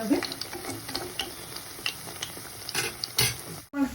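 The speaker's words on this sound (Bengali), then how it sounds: "হালকা হালকা করে ভাজতে হবে।" Bread pakoras frying gently in oil on low heat, a soft close sizzle with light crackles and a few spatula taps, fairly quiet and without speech.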